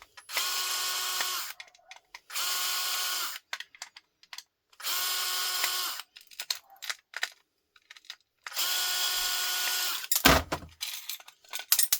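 A power drill backs small screws out of scrap brass in four whining bursts of about a second each, separated by short pauses, followed by a sharp metallic clatter and light handling knocks, loud and close.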